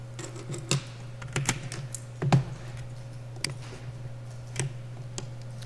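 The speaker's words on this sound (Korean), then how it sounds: "그때는 키보드에서 Shift 키를 누르면 돼요." Keys pressed on a computer keyboard, including the Shift key, make sparse, irregular clicks and taps close by over a steady low hum, with no voices.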